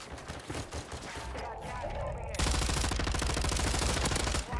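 Automatic gunfire in a Call of Duty match on Ashika Island, likely a RAPP H light machine gun, firing in dense rapid bursts that turn into a loud continuous stream about halfway through.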